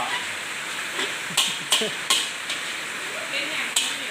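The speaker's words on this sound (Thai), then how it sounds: "ผัดให้หอมนิดๆดูแล้วเราก็" Small mushrooms being stir-fried in a pan: a soft background sizzle broken by several sharp spatula knocks and scrapes against the pan, with a voice speaking quietly in between.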